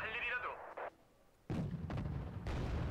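Gunfire and artillery in the war strategy game Wargame Red Dragon, with sharp broadband blasts and booming impacts in bursts, loud and close, mixed with some game sounds.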